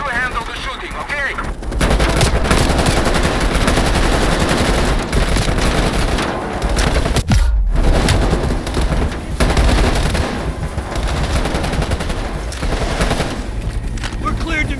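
Heavy gunfire in the Call of Duty: Black Ops Cold War video game, loud and nearly continuous bursts with booms layered over an intense action soundtrack, with voices speaking in between.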